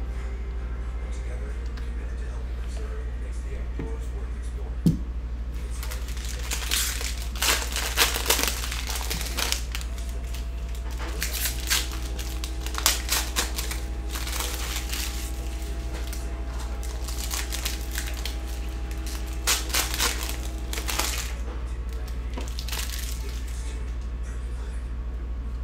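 A 2021 Prizm baseball cello pack's plastic wrapper being ripped open and handled, with bursts of crisp crinkling and tearing close to the microphone over a steady low hum and a faint background tone.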